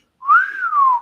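One clear human whistle, close and loud, rising then slowly gliding down in a single smooth phrase.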